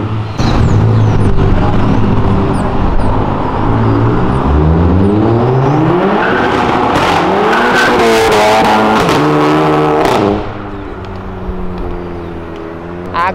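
A Volkswagen Golf GTI engine revs hard as it passes along a city avenue, a loud, sustained roar rising and falling in pitch for about ten seconds before fading, with faint background noise after.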